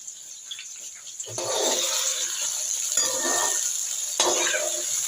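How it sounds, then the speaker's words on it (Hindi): Water is poured into a bowl of turmeric, salt and chilli powder and stirred, a hissing splash followed by scraping and swishing as the paste is mixed nearby, with some faint voice in the background. "तो ये देखें इस तरह पानी डाल के ना इसको मिक्स करके रख लेना है"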